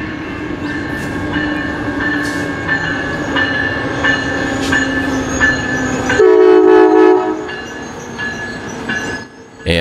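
An Amtrak Midwest passenger train pulls into the Galesburg station, its steady rumble and wheel noise carrying throughout, with a loud horn blast near the end as it arrives.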